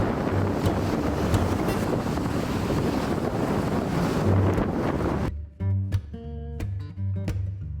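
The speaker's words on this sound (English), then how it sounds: "we checked out the waves at Shoup Park. Lake Michigan was a little angry that day." Waves crash against the Lake Michigan shore at Shoup Park on a rough day, a loud, dense roar of surf buffeted by heavy wind for over five seconds, then giving way to quieter, separate bursts of water.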